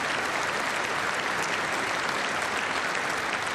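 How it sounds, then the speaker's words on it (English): Steady, dense applause from a large audience at the 2026 State of the Union address, a constant roar of clapping with no breaks or talk. "World record claps."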